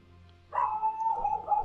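Dog barking in a DOTA 2 match setting, a single sustained bark-like yelp starting about half a second in and carrying on steadily, fairly close and alone without talk.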